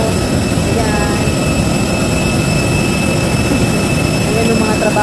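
Cebu Pacific airliner jet engine running near a boarding gate at an airport, a loud constant roaring whine with a steady high tone on top, filling the whole short stretch.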